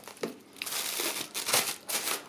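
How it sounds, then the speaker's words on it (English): Litter Genie cat litter pail liner bag crinkling up close in several bursts of crackly rustling, loud and irregular. "bring out this plastic bag"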